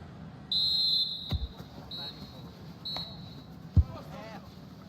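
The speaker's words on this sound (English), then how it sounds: "the whistle is sounded for half-time in this game" A referee's whistle in the FC 25 football video game blows one long shrill blast, then two shorter toots, over crowd ambience and a commentator's voice.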